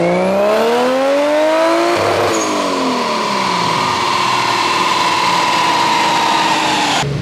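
A Nissan S13 fitted with a 1JZ-GTE engine runs hard on a dyno, its loud revs sweeping upward, dipping at a shift, then holding a steady high-pitched drone close by.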